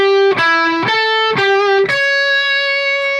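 Distorted electric guitar playing a dominant seventh arpeggio lick, four quick picked phrases climbing up to a high note that rings out sustained, loud and close with no talking.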